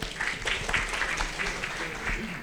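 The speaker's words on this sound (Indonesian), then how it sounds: "Tepuk tangannya Riau ini, Riau." Audience at a clinical low-vision assessment talk claps briefly, a scattered patter of hands with some murmuring voices mixed in.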